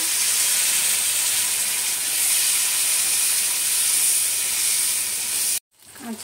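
Raw green banana frying in hot oil with turmeric, a loud, steady sizzle and hiss held close for several seconds before cutting off abruptly.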